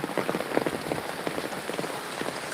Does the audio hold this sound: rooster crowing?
no